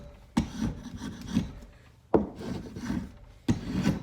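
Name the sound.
scraping bark off a wooden log in a vise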